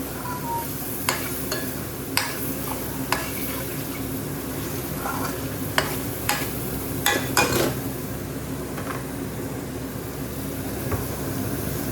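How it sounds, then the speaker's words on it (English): Base gravy stirred into a sizzling BIR-style curry in the pan: steady frying sizzle with repeated sharp scraping and clattering stirs, close and fairly loud, with no talking. "I'm actually going to add a little bit more base gravy to this because I want extra sauce"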